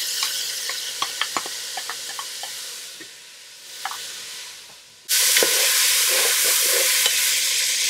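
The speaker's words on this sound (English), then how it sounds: "let's keep it stirring and keep it moving so you don't burn the onions in here" Onions fry in hamburger fat in a pan, with light scraping and clinking of a stirring utensil over a soft sizzle, then the sizzle swells suddenly louder and stays strong as stirring continues.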